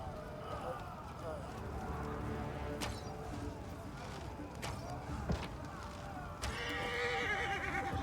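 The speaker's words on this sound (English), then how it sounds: "Wait, I think we're gonna need those horses." In the fantasy role-playing game Pathfinder: Wrath of the Righteous, horses neigh and whinny amid hoof movement and battle ambience, with brief sharp accents scattered through a steady, moderately loud game soundscape.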